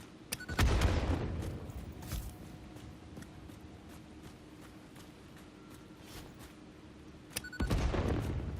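Explosives detonate in the Satisfactory video game, some set off in midair: two loud, sharp blasts about seven seconds apart, each with a booming tail, and faint scattered pops and clicks in between.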